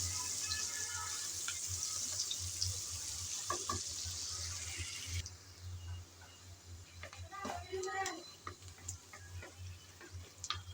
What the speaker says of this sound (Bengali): পেঁয়াজ কুচি দিয়ে নেড়ে চেড়ে ভালোভাবে একটু ভেজে নেব।